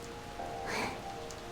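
Steady rainfall patters in the AFK Journey video game, a constant even hiss with a brief swell in the middle, heard alone without speech.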